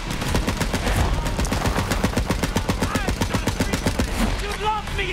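Rapid automatic gunfire in Borderlands 3, a fast steady burst of shots sustained for several seconds, loud and close, with a voice briefly heard near the end.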